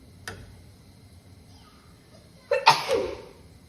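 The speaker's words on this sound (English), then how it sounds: "seasoning makes me sneeze" A person sneezes from cooking seasoning, one sharp close burst after a faint click, in a quiet kitchen.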